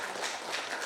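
A church congregation at a Korean worship service claps together in a steady, moderately loud wash of many hands that swells and eases over a brief moment.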